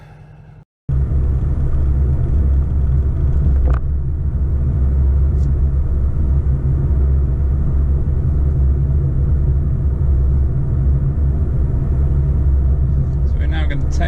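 A 2021 CUPRA Leon VZ2 drives on country roads at night, its engine and road rumble a steady, loud low drone heard from inside the cabin, with a person talking over it throughout.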